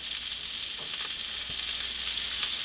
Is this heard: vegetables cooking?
yes